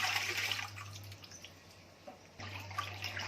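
Water being poured into a thin, milky mixture for dudheri, a Konkani sweet, heard as a steady close splashing and trickling stream with a brief break partway through. No one speaks.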